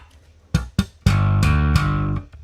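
An electric bass plays a few short plucked notes, then rings out on a sustained low tone before stopping, with no talking.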